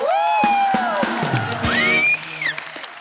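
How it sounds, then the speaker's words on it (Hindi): Studio audience applause and cheering on the set of The Kapil Sharma Show, a steady crowd wash running under musical stings and sustained tones for about three seconds, fading toward the end. "और उर्वशी की मम्मी जी के लिए और जोरदार तालियां।"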